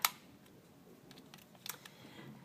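Film camera back being shut: a sharp close click at the start, then a faint quieter click and small handling rattle partway through, with no talking.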